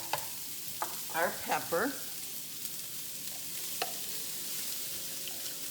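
Coleslaw mix and pepper are stirred in a hot frying pan, giving a steady low sizzle throughout while a voice speaks briefly.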